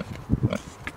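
A pig on a homestead gives a few short, close grunting oinks in quick succession, then goes quiet, with no voices heard.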